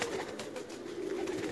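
Pigeons coo in a large loft, a soft, low burbling that is close and continuous over a wash of background noise.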